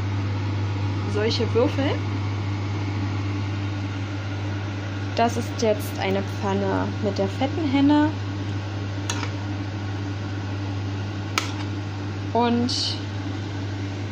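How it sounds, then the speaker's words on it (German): A kitchen ventilation hood hums steadily above a large pan of frying mushrooms and onions, a constant low drone under a person talking, with occasional clinks and stirring sounds from the cookware. "Ich mache jetzt mal noch die Lüftung an, nicht wundern."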